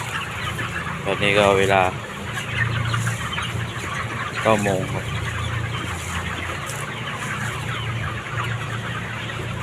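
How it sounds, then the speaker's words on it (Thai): Chickens clucking in a farmyard raising large birds around 2.3 kg, with bursts of harmonic clucks near the start and again midway over steady background noise, while someone talks throughout. "ทำมาไล่ไก่"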